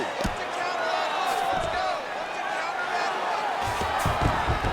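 Crowd noise at a UFC fight night event, a steady roar of cheering spread evenly through the arena after a grappling exchange, with scattered thuds and slaps near the end.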